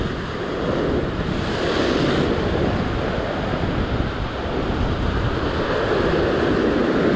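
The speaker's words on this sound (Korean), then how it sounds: "나가는 파도죠, 지금?" Ocean surf washes and rolls at the shore during sea fishing, a loud continuous roar of outgoing waves mixed with heavy wind buffeting the microphone, with no talking.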